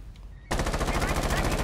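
A sudden burst of rapid automatic gunfire in Rainbow Six Siege, a fast, even rattle of shots that cuts in after a quiet moment and continues loud to the end.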